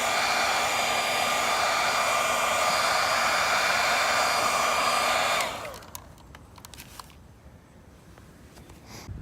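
A heat gun blows a steady, loud, whooshing hum while drying a first coat of black enamel paint on a Subaru STI rear diffuser, then cuts off abruptly about halfway through, leaving quiet handling noises.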